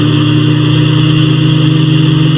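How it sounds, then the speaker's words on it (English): Apache helicopter engine throttling up in Arma 2, a loud sustained droning hum with a slight rhythmic pulse over a steady turbine whine, close and alone without voices. "Throttle up engine 1"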